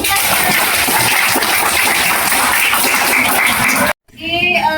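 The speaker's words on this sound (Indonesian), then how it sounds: "Oke, beri tepuk tangan dulu." A classroom of students claps together in a dense, loud burst for about four seconds, which cuts off abruptly and gives way to a voice speaking.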